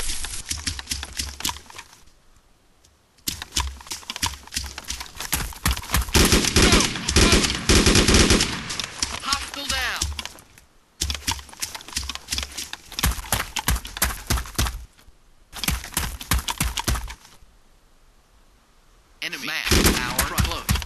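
Machine gun fire in the ARMA 2 video game crackles in sustained loud bursts separated by short pauses, with radio-style voices calling out targets between the volleys.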